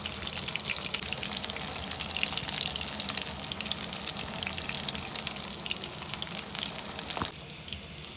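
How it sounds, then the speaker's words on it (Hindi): Crispy beef burger patties fry in a pan over medium heat, giving a steady, close crackling sizzle throughout with a few sharper pops. No one speaks. "एक से 2 मिनट में ये अच्छी तरह फ्राई हो गए।"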